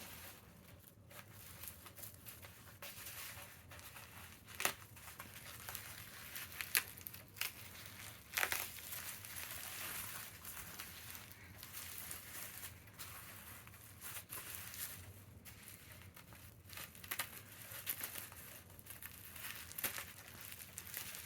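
Quiet crinkling and rustling of cardboard and plastic sleeve packaging being unwrapped, with scattered louder crackles and tears over a soft background hiss.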